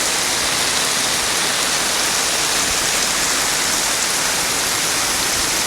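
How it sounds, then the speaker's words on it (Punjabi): A dense, unbroken roar of heavy rain pours down, loud and constant, with no voices, near a Mahindra Arjun 605 tractor stuck in the field. "ਦੇਖੋ ਪੂਰੇ ਜ਼ੋਰ ਦਾ ਮੀਂਹ ਆ ਬਾਜ ਵੀ ਤੁਹਾਨੂੰ ਆਉਂਦੀ ਹੋਣੀ ਆ"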